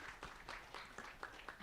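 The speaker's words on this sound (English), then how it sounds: "Another round of applause." Applause from a conference audience at a Kenyan sanitation governance event, faint and distant, with a steady patter of clapping that swells in short waves.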